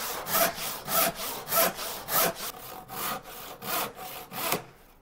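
Steady back-and-forth strokes of a handsaw cutting wood on a saw bench, about nine rhythmic rasping pushes close by, slowing and fading as the cut finishes.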